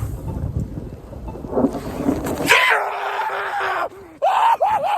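Thundersnow rumbles during an ice storm with a broad, low, rolling roar in the first half. Loud excited shouting and whooping then take over.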